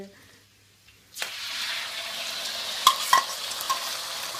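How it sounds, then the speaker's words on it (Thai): Eggs frying in a pan late at night: after a quiet start, a loud steady sizzle bursts in and continues close up, with a few sharp crackles and spatters partway through. "หิวยามดึกทอดไข่ซื้อ"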